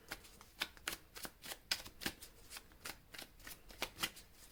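Tarot cards shuffled for a reading: a quick, irregular series of soft papery riffles and slaps, about a dozen distinct bursts, close and quiet, with no voices.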